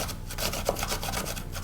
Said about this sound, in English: So I'm going to grate the onion right there.